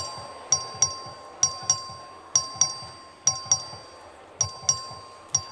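An electronic bell in the Texas House chamber rings for a record vote, repeated paired ding-dong chimes in a steady rhythm, each ringing out and fading, clear and alone.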